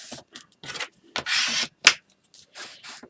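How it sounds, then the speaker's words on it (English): Stamperia paper piece being burnished down by hand, a series of short dry rubbing strokes in irregular bursts, close and clear with no talk. "Burnish that down."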